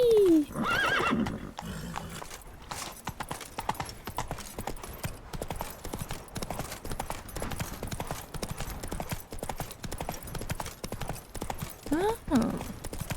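Roach the horse in The Witcher 3 gallops with a steady drum of hoofbeats, opening with a loud neigh and whinnying again near the end.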